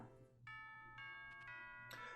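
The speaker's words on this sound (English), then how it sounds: "Oh, that's the school bell." A school bell chimes in the video game Pokemon Ultra Moon, a clear electronic ding-dong melody of several sustained tones over soft game background music, quiet in the mix.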